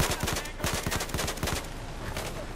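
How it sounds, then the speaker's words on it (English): Rapid automatic gunfire in the game Battlefield 4, rounds striking a rock, sharp close bursts of shots in quick rhythmic clusters, loud, then a fading rattle. "Joe, you are shooting a rock."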